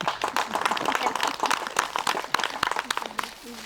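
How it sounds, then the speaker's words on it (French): An audience at an outdoor summer arts show in Gallo claps for a performer being introduced, with scattered, uneven hand claps that thin out and fade over a few seconds. "Vous pouvez l'applaudir, hein."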